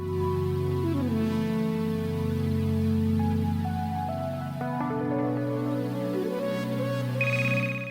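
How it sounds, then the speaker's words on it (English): Steady electronic ringing tone from an in-game phone in the video game Neofeud, a sustained melodic chime with stacked harmonic tones that shift pitch partway through, loud and continuous with no talk over it. "Phone rings again."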